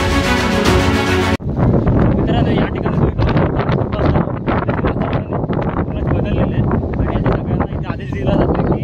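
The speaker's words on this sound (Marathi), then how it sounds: "समुद्रातील लाटा आणि वारा याचा वेग वाढू लागला." Strong sea wind buffets the microphone at Murud Janjira, a sea fort off the coast, with loud, continuous gusty roaring and rumble following a brief burst of music at the start.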